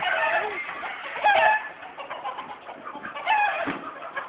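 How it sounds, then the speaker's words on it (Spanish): A rooster and hens in a Mexican backyard henhouse raise a noisy, agitated chorus of close clucks and squawks, swelling in two louder bursts over a continuous flock babble. "Ya se alborotó el gallinero"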